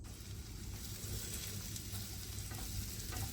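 Chopped garlic sizzles and fries with onion in a pan for a butter garlic mushroom dish, a soft, steady crackle with faint stirring scrapes, close but quiet.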